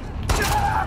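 A single gunshot lands a headshot in The Last of Us Part II: a sharp burst near the start, then game sounds trailing off under faint background noise.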